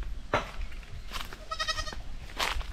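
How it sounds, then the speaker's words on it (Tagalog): A goat bleats at close range in several short, wavering calls, one with a rapid quivering tremolo, heard alone with no talking. "Tingnan muna natin yung kambing dito."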